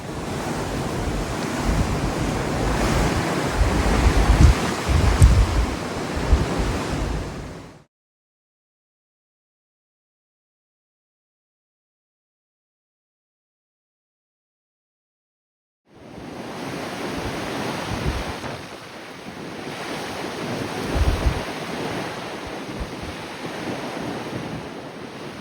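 Cold wind roaring across an exposed mountain ridge on the Appalachian Trail in snowy conditions, a loud, steady broadband rush with gusting buffets on the microphone, cut by a long stretch of total silence before resuming.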